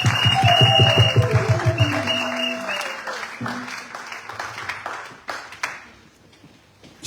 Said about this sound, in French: applaudissez très fort le Seigneur des gloires